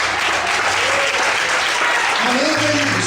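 A church congregation claps in dense, sustained applause, loud and close, with voices calling out and a low organ-like tone underneath.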